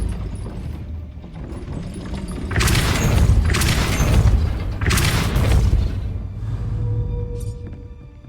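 Depulso spell cast in Hogwarts Legacy, a pair of loud, whooshing magical blasts, each lasting about a second, over a low rumbling game soundscape with no talk.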